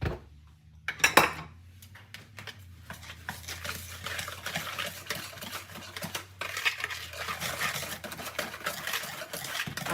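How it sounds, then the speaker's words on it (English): Pumpkin pie ingredients being whisked in a bowl, giving a continuous rapid scraping and clattering of a whisk against the bowl after a brief opening knock, moderately loud and steady throughout. "And then I'm going to whisk these ingredients together"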